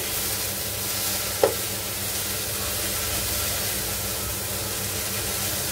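Okra frying in a pan during a rainy day at home: a steady, broadband sizzling hiss with one brief clink partway through, no talking.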